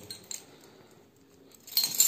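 Keys jingle and clink near a door lock in a city apartment, a few light metallic taps, then a brighter jangle swelling near the end, with no talking.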